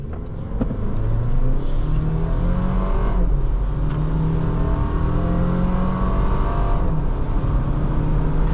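A 2025 Toyota 4Runner Trailhunter with the iForce Max engine accelerating hard into traffic on a two-lane road, with a loud, steady engine roar and rising revs heard from inside the cabin.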